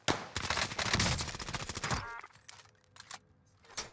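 Rapid gunfire in a video game, a dense loud burst of shots over the first two seconds, then a few scattered sharper reports with quieter gaps, no speech.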